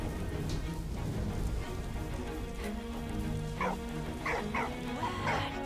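A dog barks a few times in a video game (Valiant Hearts), short sharp yelps over a steady background of rain-like ambience and game sound.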